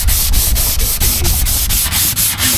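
A fiberglass car body being sanded down during bodywork, loud and close: rapid, rhythmic scraping strokes repeat steadily for a few seconds with no voices.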